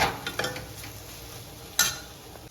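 Chutney ingredients are sautéed and stirred in a pan. The result is a couple of soft scrapes and one sharper utensil scrape against a low sizzle, close and fairly quiet.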